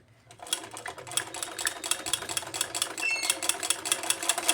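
Sewing machine running steadily while stitching a curved seam on a choli blouse, a rapid, even mechanical patter that holds close and continuous throughout with slight speed swells.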